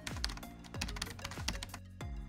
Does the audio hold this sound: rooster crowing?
no